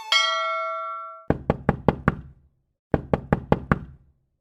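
Knocking on a door in two sharp bursts of five raps with a short pause between, just after a ringing bell-like chime fades out. The knocks are close and distinct.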